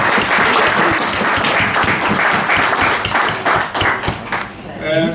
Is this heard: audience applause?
yes